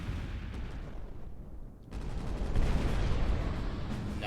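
Sustained thermal barrage attack in the sci-fi strategy game Final Theory: a dense, continuous wash of rumbling gunfire-like blasts that dips briefly then swells louder and steadier, heard alone without talk.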